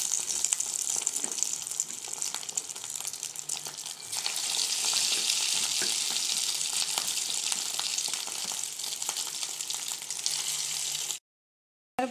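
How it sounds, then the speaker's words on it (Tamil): Cauliflower and egg mixture deep frying in hot oil, a steady dense sizzle and crackle close up that swells after a few seconds and then cuts off abruptly near the end. "பொரிஞ்சால் நல்லாயிருக்கும். பொரியுது."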